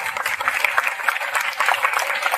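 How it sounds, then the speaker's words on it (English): Students at a school Independence Day assembly applaud their teachers, a loud, dense round of clapping that continues without a break. "I think you really deserve a round of applause"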